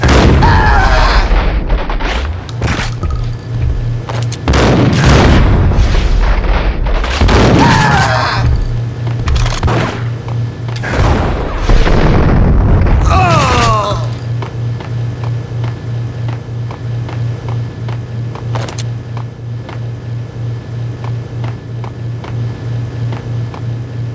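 A bomb explodes in the video game Max Payne, several loud booming bursts with crackling debris over the first half, then fading into a steady low hum and quieter rumble.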